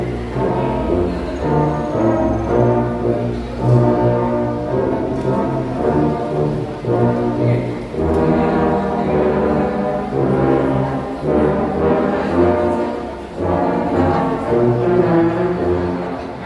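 A school band's brass section at a summer music workshop plays sustained chords together, loud and close, in phrases broken by short pauses.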